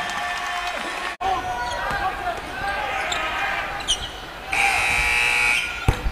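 A basketball arena horn sounds at a college game between Maryland-Eastern Shore and Virginia Tech. A long, loud buzz arrives late and lasts about a second and a half, above steady crowd noise, with occasional ball bounces and squeaks.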